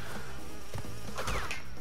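Steady, close buzzing from bees chasing the player in Crash Bandicoot 2: Cortex Strikes Back hums without a break, mixed with game music and a few sharp sound effects.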